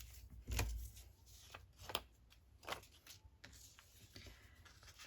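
Book pages are torn by hand to make side tuck pocket pieces, giving a few quiet, close rips and crinkles of paper with soft handling rustles in between.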